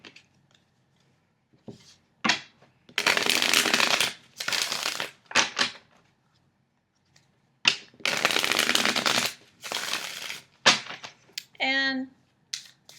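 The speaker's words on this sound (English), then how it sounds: "it's not sticky, it's not slick, so it shuffles well this way as well" Repeated bouts of Nicoletta Ceccoli tarot card shuffling, short riffles and longer crackling flurries with pauses between, close up, followed by a brief squeaky tone near the end.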